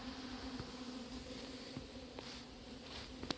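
A recovered honeybee swarm drones around a hive in a steady, moderately loud buzz, broken by a few faint clicks and knocks near the end.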